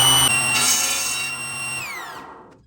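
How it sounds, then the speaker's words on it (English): A saw blade cuts through a wooden blank for a DIY mallet, giving a steady high whining buzz that runs loud for about two seconds, then the pitch falls away as the blade spins down to silence. "I'm going to push through the blade, making sure that my fence is out of the way so that the offcut doesn't get stuck"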